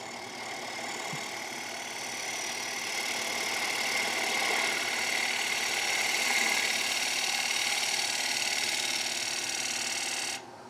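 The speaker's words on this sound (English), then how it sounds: "Just going to do another little push cut back towards my left shoulder, ride the bevel, come on to the timber." Wood lathe spinning a timber platter while a chisel makes a push cut, a steady close whirring hum with a faint scraping edge that holds evenly and then cuts off near the end.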